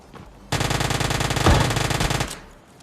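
Rapid automatic gunfire in a battle royale game, with a shotgun being used in third-person mode: a dense, loud, continuous burst of shots lasting nearly two seconds, with one heavier blast partway through, then quickly cutting off.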